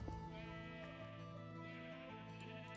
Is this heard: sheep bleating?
yes